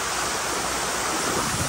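Steady rushing water as a car drives through a flooded road after heavy rain, a broad continuous splashing surge, close and fairly loud throughout with no speech.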